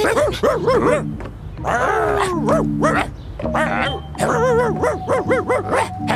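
A voice imitates a dog, barking and growling in repeated bursts, loud and close, with short pauses between outbursts.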